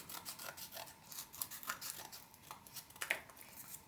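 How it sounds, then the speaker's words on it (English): Scissors snip through painted cardboard, cutting it lengthwise into small pieces for a craft snowman's buttons and mouth; a run of quiet, close, rhythmic crisp snips and rasps with no talking. "pair of scissors, and what we can do here is we can cut this into smaller pieces"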